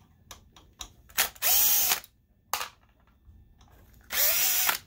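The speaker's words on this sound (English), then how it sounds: "And now let's unscrew the fan." A power screwdriver whirs in two short bursts while unscrewing a cooling fan from a Sim2 HT300E DLP projector, separated by small clicks and handling taps nearby.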